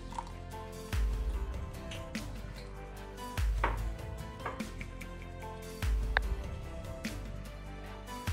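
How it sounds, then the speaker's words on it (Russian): Wet, rhythmic mixing of batter with milk in a bowl, with a low thump every couple of seconds and soft squishing and clinking in between. "начинаем замешивать кляр."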